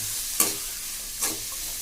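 Onions and curry leaves go into hot oil with popped mustard seeds for capsicum rice, giving a faint steady sizzle broken by two quick scraping stirs of a spoon in the pan.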